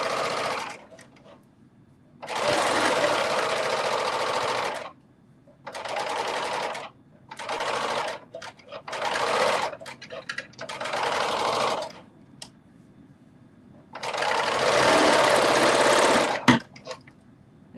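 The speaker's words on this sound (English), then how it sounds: "I'm not serging the whole thing, just around the houndstooth part." A serger overlocks the edge of houndstooth fabric for a face mask, running in about six loud bursts of steady whirring separated by short pauses.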